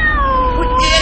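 A person imitates a cat with one loud, close, drawn-out meow that slides downward in pitch, with no other voices heard.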